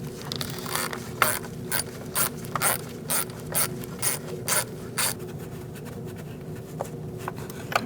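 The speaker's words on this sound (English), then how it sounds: "Using a 10mm socket and a swivel with a 1/4-inch ratchet, I'm going to loosen up this bolt." A 1/4-inch ratchet with a 10mm socket and swivel loosens a bolt on a 2004-2012 Chevrolet Colorado 3.7L, giving a run of quick, evenly spaced clicks up close before falling quiet.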